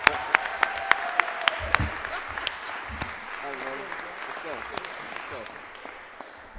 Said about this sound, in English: please give a big round of applause to my fellow deputy